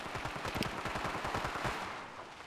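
Automatic gunfire in the mobile shooter Standoff rattles in a fast, loud burst of closely spaced shots that thins out after about two seconds.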